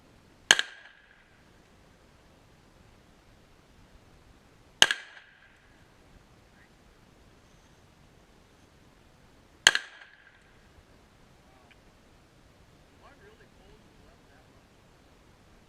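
Glock 34 pistol fired three times at roughly five-second intervals, each shot a sharp, loud crack with a short decay, separated by near silence.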